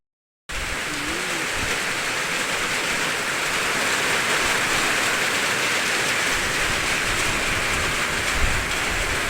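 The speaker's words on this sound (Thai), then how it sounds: "มาเนี่ยพายุเข้าแล้ว" Heavy rain pours down as a storm arrives, a dense, unbroken roar of downpour that starts abruptly and stays loud and steady for about nine seconds, with no voices.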